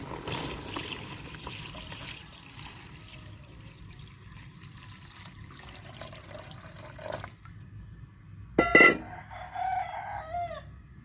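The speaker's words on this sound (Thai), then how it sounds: "เติมน้ำลงไปเลย" Water pours into a cooking pot of spiced soup with pork bones and bamboo shoots, a steady trickling stream at close range, while a rooster crows and clucks in the background near the end.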